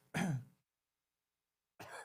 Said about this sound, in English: Coughing is a bad idea.